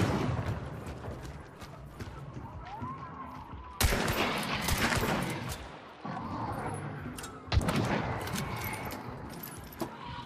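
Bursts of gunfire from a period firearm in the video game Hunt: Showdown, with several sharp loud shots breaking through a steady layer of game ambience.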